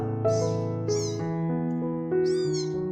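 A small orange kitten meows loudly three times, each cry bright and close, separated by short pauses, with no voices heard.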